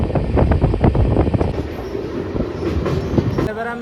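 Darjeeling Mail train running, a loud close rumble of rail wheels with rhythmic clicking and clattering over the track, plus a faint squeal toward the end, no voices.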